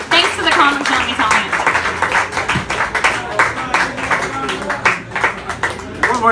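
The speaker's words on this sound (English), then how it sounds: "Round of applause for all the comedians you saw tonight." Audience at a stand-up comedy show clapping and applauding for the comedians, a dense steady round of claps heard under a host talking over it.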